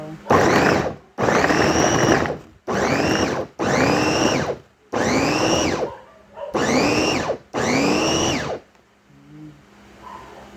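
A blender whirs in seven loud bursts of a few seconds each, separated by short pauses, with the motor pitch shifting as the food breaks down.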